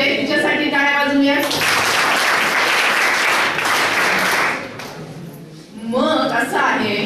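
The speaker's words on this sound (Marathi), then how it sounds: "तिच्यासाठी टाळ्या वाजवूया" An audience at an NSS workshop on saving the girl child claps for a student in a burst of dense applause lasting about three seconds, with a speaking voice before and after it.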